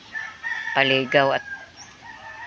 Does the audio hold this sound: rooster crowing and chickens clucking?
yes